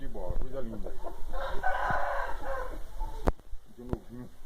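A seven-month-old young rooster crows loudly and close by in one long, strained call. Bursts of clucking and other farmyard fowl sounds come before and after it.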